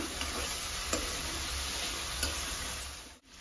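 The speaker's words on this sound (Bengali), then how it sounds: "এবারে এটা আমি মিক্স করব।" Mustard and poppy seed paste is mixed with salt and chili powder for shukto. It sounds like a quiet, steady stirring hiss with a couple of faint ticks, and no voice.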